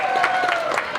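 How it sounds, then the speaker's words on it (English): Group applause after a cake reveal, a steady dense round of clapping filling the whole moment at close range. "Give yourselves a round of applause,"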